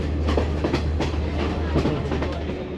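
A passenger train travelling through Sri Lanka, heard from on board as a loud continuous rumble with rhythmic clickety-clack of wheels on rail joints, steady throughout.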